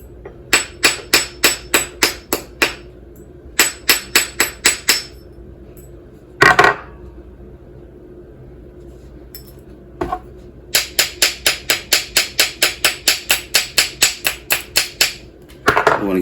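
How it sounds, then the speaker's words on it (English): Hammer striking a wire ankh pendant to texture it, bursts of quick, bright metallic taps in rhythmic runs of eight to fifteen blows, separated by pauses and a few heavier clanks, close and distinct. "So while I was talking, I was hammering."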